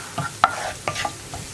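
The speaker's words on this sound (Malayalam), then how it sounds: "മഞ്ഞൾപ്പൊടി ചേർത്തിട്ട് ആ മഞ്ഞൾപ്പൊടി ഒന്ന് കുക്കായി വരുന്നത് വരെ ഒരു പ്രാവശ്യം ഇളക്കി കൊടുക്കുക" Turmeric powder is stirred in a frying pan, giving a few short scraping strokes of a spoon with a faint sizzle underneath, close and fairly clear.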